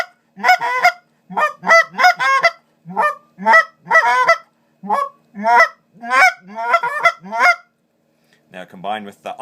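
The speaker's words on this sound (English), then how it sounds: "you can make some very realistic goose ground talk with just clucks and ahs." Short goose clucks and honks are blown on a Basin Calls BigShot honker call, a rapid, loud series of close, distinct notes that vary in pitch, with a brief pause before a final burst.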